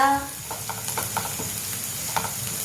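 Chopped onion frying in a pan with a steady low sizzle, broken by a string of light spoon clicks and scrapes, after a brief trailing voice at the start.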